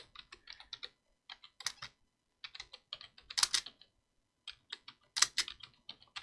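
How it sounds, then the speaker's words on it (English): Close, fairly quiet tapping on a computer keyboard in bursts of quick keystrokes, with short pauses between runs and a few louder clacks standing out. "I might as well type in the next question."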